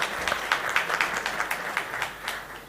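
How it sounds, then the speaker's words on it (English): Scattered applause from an audience at a tribute event honoring Raj Kapoor, with distinct claps rising and falling at moderate level and no voices. "definitely applause for Raj Kapoor"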